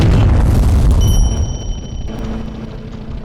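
An incoming tank shell bursts in the tank design game Sprocket: a loud, heavy boom at the start whose rumble decays over about a second, followed by a fainter metallic ringing tone and lingering low rumble.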